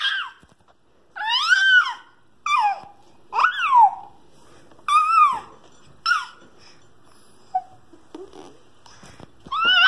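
A baby gives a series of shrill, high-pitched screams and squeals in short bursts with brief pauses between, close by and fairly loud.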